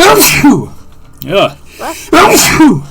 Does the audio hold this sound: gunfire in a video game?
no